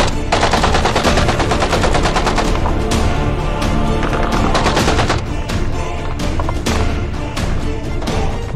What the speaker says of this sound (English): The UÇK fighters, hidden in strategic positions, open fire.